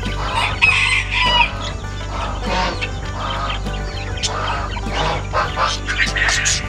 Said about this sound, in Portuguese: Aqui nós temos a Sebraite com os pintinhos dela